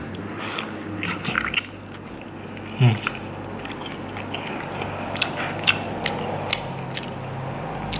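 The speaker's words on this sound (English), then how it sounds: "Let's try the broth and pork belly mix." Someone eating instant ramen broth with pork belly: soft slurps, sips and chewing, close and quiet, with one louder bite or clink near the start and faint clicks scattered over low background hiss.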